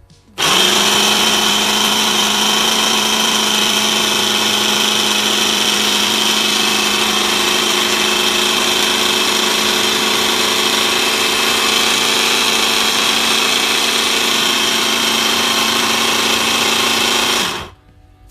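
A Kalorik two-speed hand blender (model CMM 39732 BK) runs on double speed mixing a grapefruit drink, a loud steady motor whine held close for about seventeen seconds before cutting off abruptly, with no talking.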